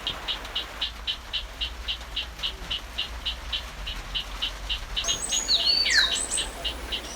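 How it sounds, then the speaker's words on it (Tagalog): Forest frogs call in a steady, evenly spaced series of short, bright pulses against a constant hum of background noise, with brief bird chirps joining near the end. "Kaya ng mga palaka na magtawag ng malayo na para bang nakawoki-toki."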